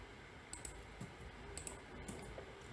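Computer keyboard keys are pressed during Blender 3D modeling work, giving a handful of light, sharp clicks spaced irregularly over a faint background hiss, close but quiet, with no talking.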